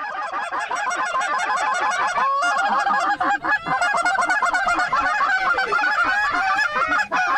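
A flock of geese honks continuously during a youth waterfowl hunt, many overlapping calls close and loud, with a dense, steady chorus throughout.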